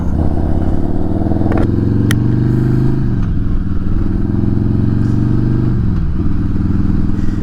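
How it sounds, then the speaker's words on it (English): A motorcycle engine drones loud and close while riding, with a throbbing low hum, gear-shift dips in pitch and constant buffeting wind noise over the microphone. "what the ambient wind noise and bike noise is"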